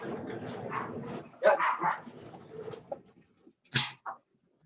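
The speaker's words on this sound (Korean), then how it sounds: "강아지들이 너무 많이 짖어가지고." Dogs bark repeatedly somewhere in a neighbourhood, several sharp yips and barks in bursts, with people talking in between.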